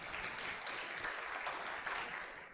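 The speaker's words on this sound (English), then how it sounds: "Así que usted puede darse un aplauso también por eso." Audience applause at a church faith promise presentation, moderate clapping from a crowd heard at a distance, fairly quiet and steady, tapering slightly at the end.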